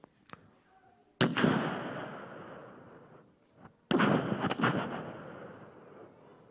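Two deep, rumbling booms from nearby military training explosions roll in a few seconds apart, each swelling suddenly then fading slowly, like distant explosions.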